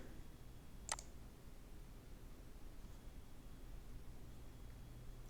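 A single sharp computer mouse click, close and brief, followed by quiet steady background hiss.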